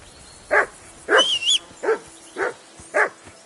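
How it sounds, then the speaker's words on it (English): Five sharp barks from a nearby dog in a video game, evenly spaced, with a brief wavering whistle sounding between the first barks. "Whistle at that mutt of yours to stop barking."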